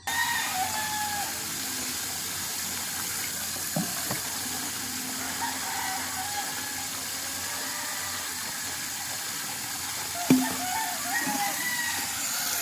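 A rooster and chickens among young chicks around a rural yard give faint, intermittent crowing and clucking over a steady hiss of background noise, with a brief louder knock near the end.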